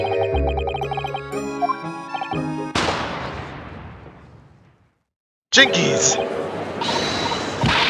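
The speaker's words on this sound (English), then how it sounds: "A smoke bomb!" A smoke bomb bursts in The Great Ace Attorney: a sudden loud burst of noise about halfway through that fades into a hissing decay, then silence. Game music comes before it and more sound follows, with a voice briefly exclaiming.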